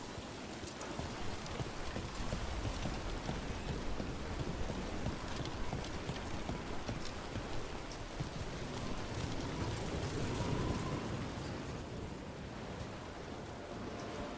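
Steady, dense rainfall pours in the video game Dragon Age: The Veilguard, a broad continuous hiss of drops hitting surfaces that holds level throughout with no voices over it.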